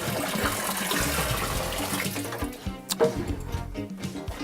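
Water poured from the housing of a reverse-osmosis filter into a water softener's salt tank, a steady splashing rush for about two and a half seconds that tapers into a few separate drips and spatters.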